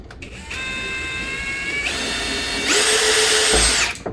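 A power drill drives tiny screws into a bass guitar body during a build. The motor gives a steady close whine that climbs in pitch and then grows louder and harsher before cutting off.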